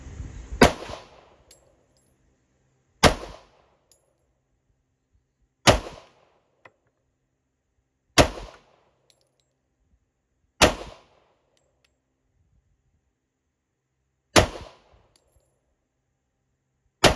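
Single gunshots from a 40 S&W pistol fired at a target: six or seven sharp, loud cracks spaced a few seconds apart, each with a short decay and silence between.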